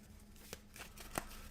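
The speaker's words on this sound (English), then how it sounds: "And shuffled into the deck." Playing cards for the Dominant Species card game being shuffled back into the deck during a solo tabletop session, a few short papery riffles and snaps, close and fairly quiet, with no talking.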